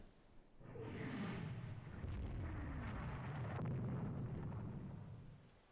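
Torpedoes fired from a warship in the naval strategy game Rule the Waves 3: a faint, sustained rumbling whoosh rising in at the start and holding for several seconds, with no speech over it.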